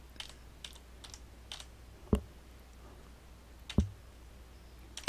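Sparse typing on a computer keyboard while entering text in Windows Paint, a few light clicks at irregular intervals with two sharper, louder key strikes, quiet and close.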